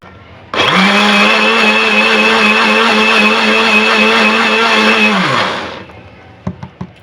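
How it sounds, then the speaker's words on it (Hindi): An electric kitchen blender starts abruptly and runs loud and steady for about five seconds, then winds down, followed by a few sharp knocks. "एक दफ़ा ब्लेंडर चलाएँगे और इसे अच्छे तरीके से कर लेंगे मिक्स।"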